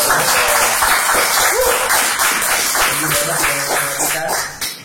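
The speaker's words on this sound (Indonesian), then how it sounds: "kita buat teman-teman di sini boleh tepuk tangan yang paling keras dong" Studio audience at a talk show clapping and cheering together for several seconds, a dense steady wash of applause with scattered voices and tonal sounds mixed in, fading slightly near the end.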